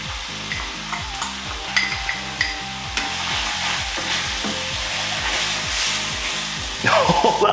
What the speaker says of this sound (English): We're going to add that ramekin full of spices into the pan and then mix it in.